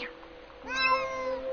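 Meowing cat inside a video game, heard as one short meow followed by a longer, louder, rising-and-falling meow, close and clear over a steady hum.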